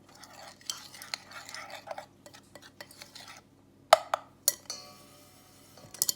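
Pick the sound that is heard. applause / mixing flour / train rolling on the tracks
mixing flour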